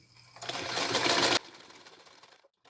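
A sewing machine runs a steady stitching burst for about a second while quilting a seam, then stops, leaving quieter handling noises near the mic.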